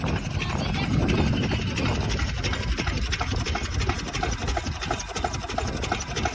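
A generator-powered pump machine at a salt farm running steadily with a rapid mechanical rattle and low engine drone, close and unbroken throughout.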